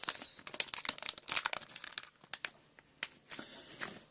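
A package for an Arduino nRF24L01 wireless module is torn open, with plastic crinkling and tearing in uneven bursts, close and fairly quiet.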